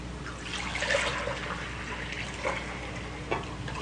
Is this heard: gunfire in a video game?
no